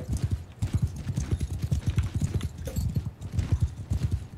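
Horse hooves clip-clopping in the medieval battle game Bannerlord, a fast dense rhythm of many hoofbeats from a mounted army moving together, steady and fairly loud throughout.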